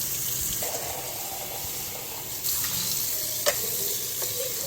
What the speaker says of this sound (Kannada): ನೊರೆ ಹೋಗೋವರೆಗೂ ನಾನು ತೊಳಿತೀನಿ